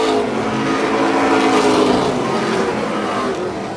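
Race cars roaring around a track, a dense loud wash of engine noise sustained throughout with slight swells as cars pass, no voices.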